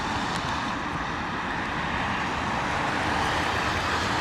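A Virgin Atlantic Airbus A350 at London Heathrow Airport in wet, windy weather, heard as a steady, broad roar of jet engine noise that holds at an even level throughout.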